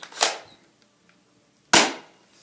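Two sharp, loud cracks roughly a second and a half apart from a spring-powered airsoft pump-action shotgun with an 18-round removable magazine, each with a quick decay and quiet between.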